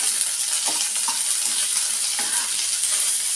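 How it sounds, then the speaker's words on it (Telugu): Onion, garlic and curry leaves fry in a pan with urad dal for curry leaf chutney, giving an even, close sizzle with a few light clinks of stirring. "కాసేపు వేగనిస్తాం."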